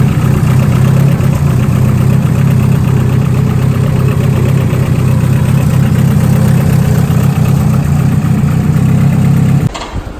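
A Honda Integra GSR with a turbocharged B18C1 engine runs at a loud, steady idle, its deep rumble holding close and even before cutting off abruptly near the end.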